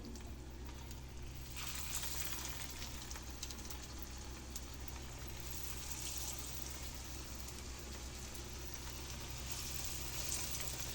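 Steady, crackling sizzle of patties frying in a hot pan, continuous and close, with no one talking.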